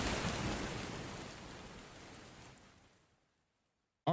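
Steady broadband rain hiss with a faint rumble underneath, fading out gradually over a few seconds before a brief sharp burst at the very end; no talking.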